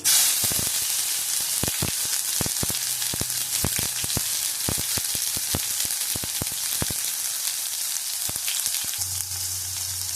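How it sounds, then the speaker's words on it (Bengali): Black cumin seeds crackle and sizzle in hot oil, a dense, even frying hiss across the whole stretch dotted with many sharp pops, close and steady, with no voices. "দেখো এই তেলের মধ্যে কালো জিরে দিয়ে দিলাম"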